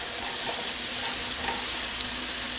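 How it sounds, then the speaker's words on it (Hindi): Vegetables frying over a high flame for Chinese fried rice, giving a continuous, even sizzle with light stirring, close and steady, no voices. "हाई फ्लेम पे ये सब्जियों को मैंने फ्राई कर लिया है"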